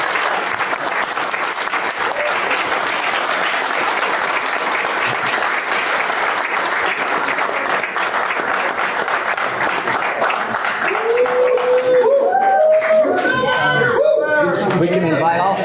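A city meeting audience claps loudly and steadily, dense applause filling most of the stretch, then it tapers as a voice begins speaking over the fading claps.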